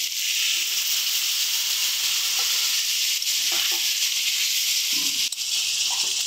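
Water poured into a pan of pumpkin curry sets off a loud, steady sizzle and hiss that runs throughout, with a few faint clinks from the pan.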